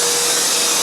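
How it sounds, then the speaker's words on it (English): A car wash vacuum runs continuously inside a Tesla, a loud, close, steady hissing roar for the whole moment without any talk. "vacuum from the inside to the door frames here, and vacuum this from the inside for sure here as well"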